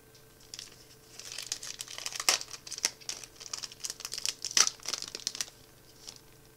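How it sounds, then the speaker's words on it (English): A trading card booster pack from the Kaldheim set is torn open, close crinkling and crackling foil in bursts over several seconds, with one sharper rip midway. "Just tear it right down the middle."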